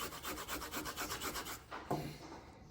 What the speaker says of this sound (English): Now for the ginger, we just use one of those